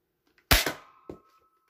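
An Adventure Force Tactical Strike toy blaster fires with a sharp, loud crack followed by a mechanical clack, then a second smaller snap about half a second later, close and otherwise quiet.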